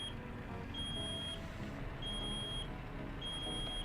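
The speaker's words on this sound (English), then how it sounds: "that air alarm is going off again" A truck's air pressure warning in Euro Truck Simulator 2 beeps as a steady high electronic tone, sounding in three evenly spaced pulses of about half a second each over a constant engine drone.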